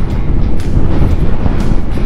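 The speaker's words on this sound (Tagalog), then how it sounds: "Lakas ng hangin dito guys" Strong wind buffets the microphone in a constant loud roar with gusty rumbling, no voices over it.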